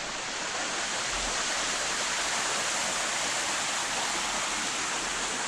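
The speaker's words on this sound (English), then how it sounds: "Right by that waterfall." Steady, dense roar of rushing water from a waterfall near a cabin in the woods, a continuous broadband wash close by with no breaks and no voices.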